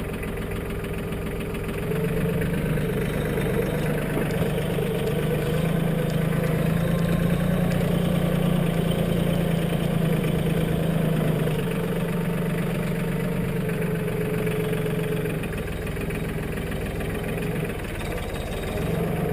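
A 2017 Mahindra 1526 compact tractor's diesel engine idles steadily nearby, a continuous low rumble with a slight knocking throb and no speech.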